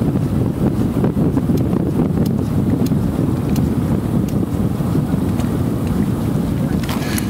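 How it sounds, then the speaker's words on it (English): Strong gusty wind at Sloan's Lake buffets the microphone outdoors, making a loud continuous low rumble and roar with a few faint crackles over it. "It's bad wind today."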